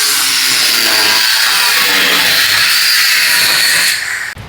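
A power tool cuts through steel roll cage tubing during a roll bar install, a loud continuous high-pitched grinding whine held for about four seconds before it stops abruptly.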